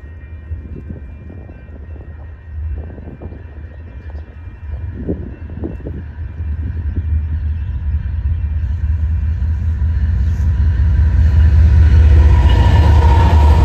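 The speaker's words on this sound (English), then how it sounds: "the next eastbound to come through is a eastbound UP mixed freight" An eastbound Union Pacific mixed freight train passes with a deep low rumble that swells steadily louder and brighter toward the end, joined by rising wheel and rail noise.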